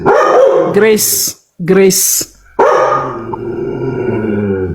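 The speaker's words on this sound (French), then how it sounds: "Le chien caviar aussi ne veut pas que je parle." A dog barks in a few loud, close bursts with short gaps, mixed with people talking in French at an evening gathering.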